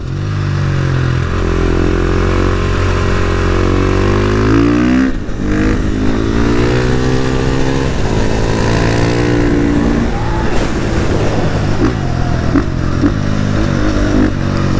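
A KTM 450 supermoto single-cylinder engine on a mountain pass road, loud and close, rising and falling through revs and gear changes with a steady, rough four-stroke drone.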